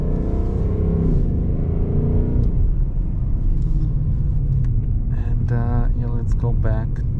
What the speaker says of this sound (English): How do you like the sound of the engine and exhaust?